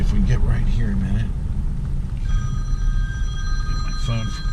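A phone rings inside a Rolls-Royce Silver Cloud, steady electronic tones in the second half over low road rumble, while someone talks.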